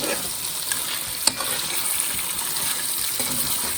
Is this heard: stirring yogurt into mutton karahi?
yes